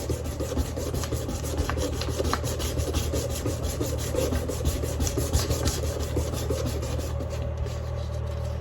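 Steel is sanded to remove deep gouges and scratches, producing a continuous close rasping scrub with fast repeating strokes over a steady low hum.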